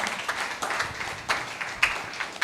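Church congregation applauding, a scattered, moderately distant clapping that rises and falls in uneven bursts, with a preacher's voice faintly mixed in.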